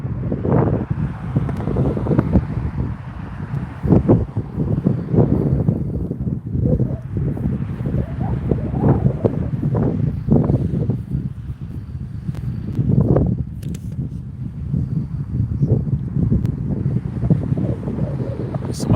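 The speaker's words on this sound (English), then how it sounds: "It's a gust of wind." A strong outdoor gust of wind roars straight into the microphone, a loud continuous rumbling buffet with shifting surges and crackles that lasts throughout, with no voices.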